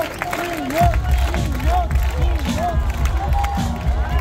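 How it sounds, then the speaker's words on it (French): A festival audience at an outdoor tribute concert claps and cheers loudly, a dense wash of applause with whoops and shouting voices over it. "Merci de faire encore un tonnerre d'applaudissements pour tous les bénévoles et autres de Chartres Festival"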